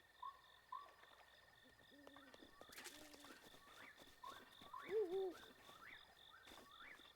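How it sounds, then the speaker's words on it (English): An owl hoots repeatedly in a Zelda: Breath of the Wild game world, the calls spaced apart at moderate distance over a faint steady ambient tone, with other soft game sounds in between. "I hear an owl too."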